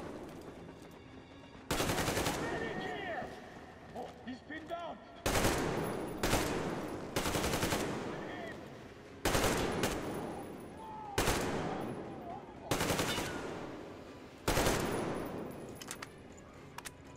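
Gunfire in the Metro Exodus video game: a rifle with heavy recoil fires in sharp, loud bursts roughly every second or two, each blast ringing out over a quieter in-game background, with no talking.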